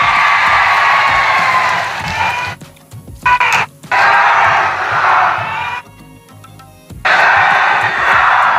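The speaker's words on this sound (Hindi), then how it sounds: "जोर से ताली बजाओ" A crowd at an election rally for a candidate bursts into loud clapping, cheering and whooping, sustained and dense, broken by brief drops in level and then swelling again, heard up close and filling the space.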